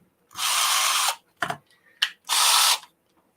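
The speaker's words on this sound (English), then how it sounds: "Where's the drill? Drill another hole." A power drill whirs in two steady bursts, separated by short clicks and knocks, with near silence between them.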